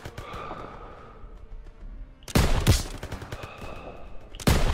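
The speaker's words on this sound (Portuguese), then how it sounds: "Metralhadoras, abri fogo!" Gunfire in the Call of Duty WWII video game, a World War II battle scene: loud, dense bursts of machine gun fire break in abruptly after a quieter stretch of battle ambience, then a second burst starts at the end.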